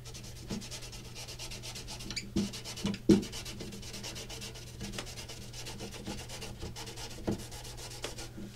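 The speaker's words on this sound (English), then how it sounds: "So get right up next to the fret and get a scrub on this thing." Steady rubbing and scrubbing right up against the frets of an acoustic guitar fretboard, a close, continuous scouring with a few sharper scrapes as the cloth catches along the neck.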